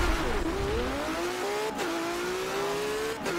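A car in Forza Motorsport 7 accelerating in a drag race: a loud, close engine note climbs steadily through the gears, with brief dips at each shift, heard alone with no talk.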